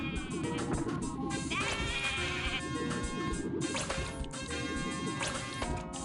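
Cartoon sheep bleats from the video game Rocket: Robot on Wheels recur in a dense run over loud in-game music and effects.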